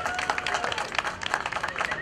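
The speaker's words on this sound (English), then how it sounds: "I want everybody to give Mitch Greenlick a nice applause" An audience at an atheist festival in Portland applauds for a state representative, brisk uneven clapping from a modest crowd, moderately loud, with voices mixed in over it.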